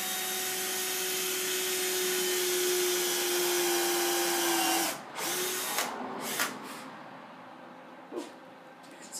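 An electric drill bores into clamped wood for a small chest, whining steadily and loudly for about five seconds before stopping, followed by a few clunks and handling knocks.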